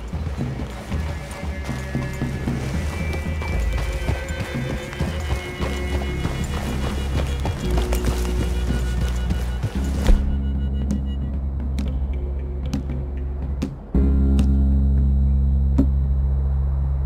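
Horse hooves clip-clopping in the Red Dead Redemption 2 video game, a running rhythm of hoofbeats over low rumble that cuts off midway, followed by sparse sounds and a steady hum.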